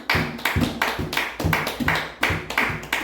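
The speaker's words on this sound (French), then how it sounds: "Acclamons pour le Seigneur." Church congregation clapping in a rhythmic, evenly paced pattern of sharp hand claps, close and fairly loud, with no talking over it.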